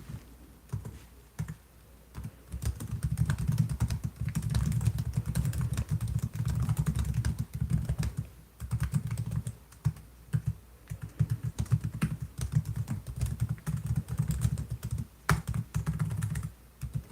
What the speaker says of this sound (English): Our typing sounds good.